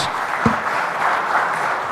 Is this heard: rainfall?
no